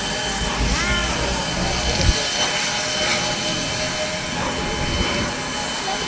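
Steam engine number 25 runs past on a heritage railway near Tillamook, a loud, dense rumble with rhythmic chuffing, wheel noise and faint squeals, while voices can be heard.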